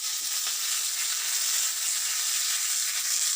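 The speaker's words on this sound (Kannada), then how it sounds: "ಆಮೇಲೆ ಇದಕ್ಕೆ ಕೆಂಪು ಮೆಣಸಿನ್ಕಾಯಿ ಹಾಕ್ತಾಯಿದ್ದೀನಿ." Red chillies dropped into hot oil for hasi gojju sizzle and fry with a steady, loud, close hiss that holds evenly throughout, no voices.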